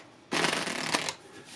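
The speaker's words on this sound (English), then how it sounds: "And a couple more shuffles," A deck of playing cards is riffled in a quick shuffle, one bright rushing flutter lasting under a second, close and crisp, ending in a soft snap.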